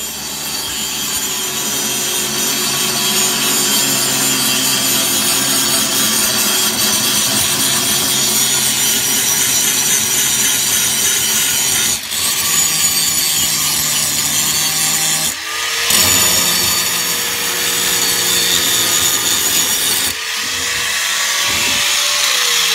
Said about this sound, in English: grinding time.